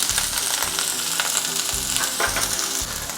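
Dried prawns sizzle and crackle steadily in hot coconut oil, a dense, continuous frying hiss with occasional stirring clatter close by, fairly loud and with no voices.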